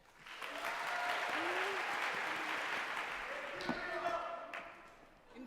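Lecture-hall audience at a Harvard Thinks Big event applauds to welcome classicist Emma Dench, a steady dense clapping that rises quickly, holds for several seconds with a few whoops, then tapers off.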